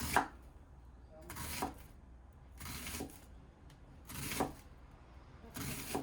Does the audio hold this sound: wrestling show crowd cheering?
no